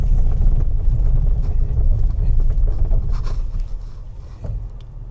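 Honda Ridgeline pickup cruising in normal drive mode, a steady low engine and road rumble with wind buffeting that eases slightly near the end, no talk over it.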